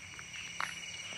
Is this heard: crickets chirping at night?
yes